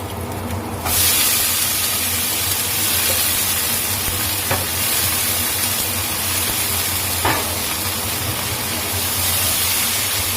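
Bean sprouts dropped into a hot pan burst into a loud, steady hissing sizzle that holds for several seconds, with a couple of faint clicks of a utensil.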